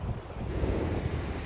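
Strong wind buffets the microphone on a beach, over the constant roar of surf rolling in, loud and continuous with no talking.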